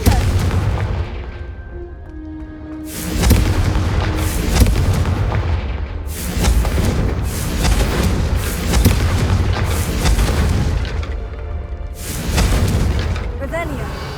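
Confringo spell blasts boom repeatedly in Hogwarts Legacy combat, loud rolling explosions one after another with brief lulls between them, and no voices over the blasts.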